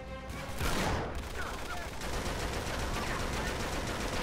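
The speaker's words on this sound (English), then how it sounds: "I didn't know there was a machine gun up there" Sustained rapid machine gun fire from the Uncharted: The Nathan Drake Collection game, loud and dense throughout with overlapping bursts and gunfire clatter and no pauses.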